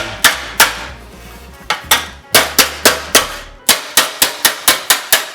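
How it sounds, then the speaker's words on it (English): Sharp metallic hammer blows ring out as damaged sheet metal on a car's rear valance is bent back, a few spaced strikes at first and then a fast, steady run of loud, close clanging hits. "just take my hammer"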